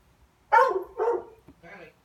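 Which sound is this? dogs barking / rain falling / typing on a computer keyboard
dogs barking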